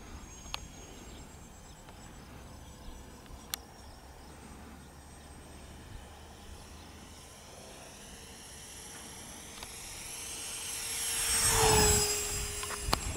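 A twin 12-blade 50mm EDF A-10 Warthog RC jet on 4S power with a 1000mm span whines past outdoors, building from a distant hiss to a loud, close ducted-fan roar with a falling pitch sweep, over insect chirping.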